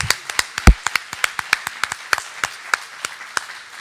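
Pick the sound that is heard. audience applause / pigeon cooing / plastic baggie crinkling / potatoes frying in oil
audience applause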